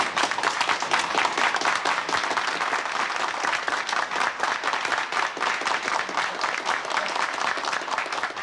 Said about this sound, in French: Je voudrais que debout, vous l'applaudissiez.